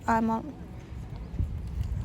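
Pony hooves clip-clop at an outdoor horse show, muffled low thuds that follow a brief voice at the start over steady background noise.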